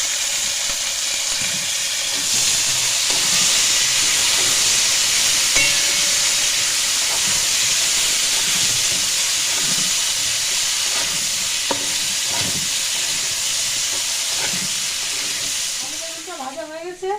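Chunks of aubergine and potato sizzle and hiss in hot oil in a pan, a steady loud frying crackle with occasional stirring scrapes, fading slightly at the end.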